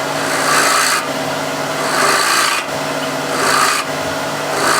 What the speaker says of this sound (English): And now scrape it